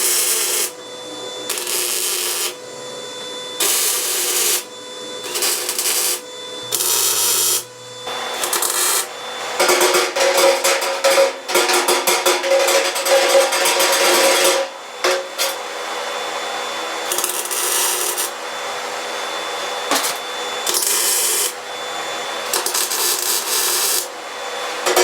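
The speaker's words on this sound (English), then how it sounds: "So I'm gonna tack this stuff in real quick." Short bursts of welding crackle and buzz as washers are tacked onto a homemade steel shooting target, several on-off bursts in a steady rhythm, close and loud with no talking.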